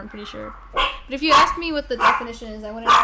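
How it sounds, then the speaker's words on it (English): A pet dog, called a demon dog, barks in short sharp bursts at home while a person keeps talking over it. "That is my dog."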